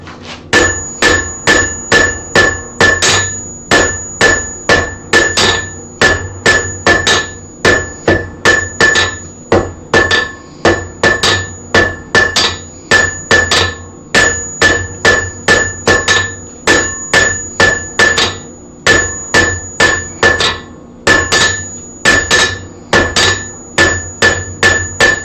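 A blacksmith's hammer strikes hot metal on an anvil while forging a taper, a long run of loud, ringing blows in steady rhythm with short pauses between bursts, close and alone.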